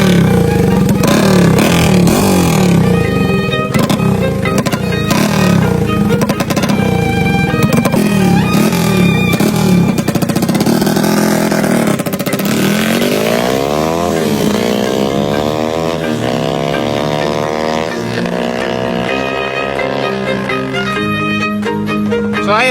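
Motorcycle fitted with new super-light Vietnamese-made sprockets, revving hard and shifting up through second and third gear, a loud close engine roar climbing and falling in pitch with clattering chain noise throughout.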